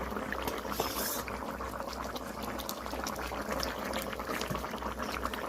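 Pieces of bhetki fish drop into a simmering cauliflower curry, bringing a steady bubbling and sizzling close by with soft liquid shifts throughout, no talking.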